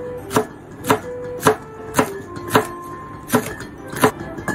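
A kitchen knife chops vegetables diagonally on a wooden cutting board for mushroom soup, making eight evenly spaced, crisp thuds roughly half a second apart, close and clear with no talking.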